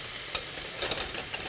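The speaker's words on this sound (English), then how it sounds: "I hear the sizzling." Steak sizzling in a pan, a quiet, steady crackling fry broken by a few sharper pops and spits.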